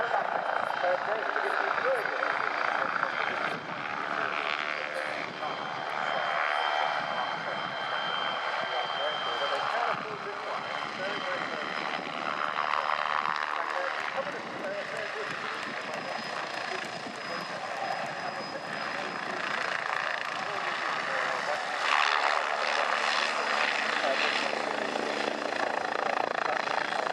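A Bo 105 helicopter's rotor and engine drone steadily throughout an aerobatic display at the Royal International Air Tattoo, rising and falling as it maneuvers, with a voice talking over it.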